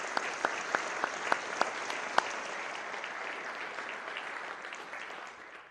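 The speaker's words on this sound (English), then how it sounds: "Let's give them a round of applause for supporting programs." A few sharp, distinct claps open before the audience swells into steady, moderate applause for sponsors at a performing arts season announcement, fading toward the end.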